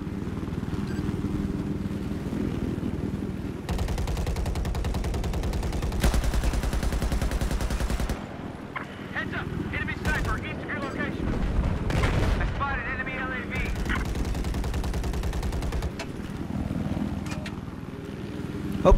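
Sustained bursts of video game gunfire aimed at an LAV armored vehicle, with dense automatic fire blocks and heavy booming impacts, some pauses between volleys.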